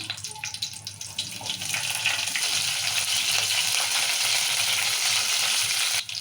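Oil sizzles and spits in a hot pan as red and green chillies hit it for tempering, a bright crackling hiss that swells after a couple of seconds and stays loud.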